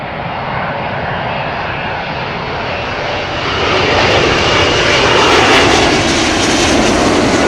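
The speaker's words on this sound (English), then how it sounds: "United Airlines from Houston, 777-200." A United Airlines Boeing 777-200 from Houston passes over London Heathrow, a loud, steady jet engine roar that swells slightly as it nears, heard alone without talk.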